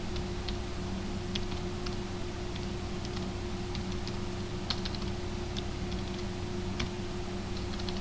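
Typing on a computer keyboard, a quiet run of irregular light key clicks over a steady background hum.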